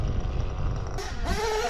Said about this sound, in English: I'm always surprised by the power of this engine.